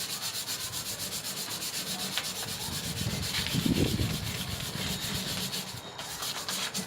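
Hand sanding of a wooden furniture piece with sandpaper before chalk painting, a soft repetitive back-and-forth scratching rub that swells slightly in the middle, close and quiet with no talking.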